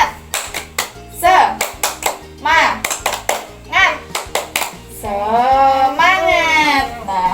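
A group of preschool children performs a rhythmic clapping chant in class, with crisp clap bursts punctuating chanted voices and a longer sung line at the end.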